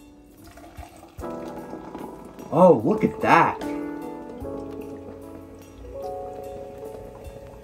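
Pineapple-flavored Pepsi pours from a 2-liter bottle into a container in a few short gurgling glugs, with a person speaking briefly before the pour.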